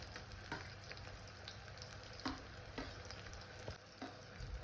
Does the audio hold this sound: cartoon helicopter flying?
no